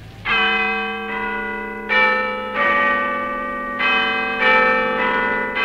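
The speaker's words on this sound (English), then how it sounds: "she heard the loud chimes from the clock" A clock strikes midnight in a fairy tale with a series of loud, ringing bell chimes, each struck tone sustaining and overlapping the next in a steady slow rhythm.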